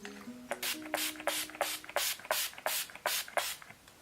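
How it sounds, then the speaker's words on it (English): A Skin Duo Navia setting spray mists onto a face in about nine quick, close pumps, each a short airy hiss in a fairly regular rhythm, with faint shuffling between them. "I'm going to grab my Skin Duo Navia skin spray and set my face."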